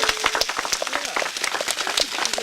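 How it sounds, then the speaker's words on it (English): An audience claps after a prayer with dense, scattered hand claps that continue steadily throughout, fairly close and moderately loud. "that's a good prayer. We can clap."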